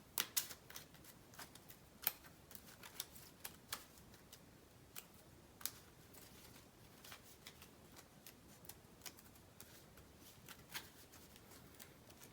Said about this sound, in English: Give the deck a quick shuffle.